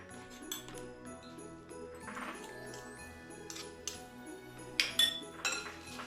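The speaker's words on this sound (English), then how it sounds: "these are chow mein noodles, and we're just gonna put some in there and stir them up easily" Chow mein noodles stirred into a candy mixture in a bowl for haystacks, heard as soft clinks and scrapes of a utensil against the bowl, sparse and fairly quiet, louder near the end.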